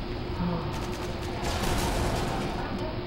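Gunfire from the Call of Duty Modern Warfare 2 video game in a Domination match, a dense, steady crackle of shots lasting the whole stretch, loud and continuous, under faint voice.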